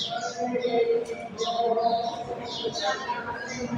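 Busy chirping of many sparrows inside a Swaminarayan temple in Jamnagar, overlapping high tweets in a continuous chatter with some voices in the background.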